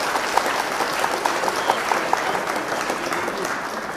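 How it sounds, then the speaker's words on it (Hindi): Audience at a poetry gathering bursts into sustained applause, dense clapping from a crowd with a few sharper individual claps standing out, loud and continuous throughout. "आज जोरदार तालियों से इस्तकबाल करें"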